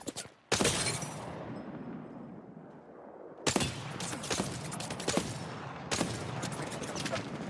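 Gunfire in the shooter Apex Legends: sharp, loud bursts of shots, one at the start, then a dense cluster of rapid shots and impacts in the second half, with quieter gaps of ambient game noise between them.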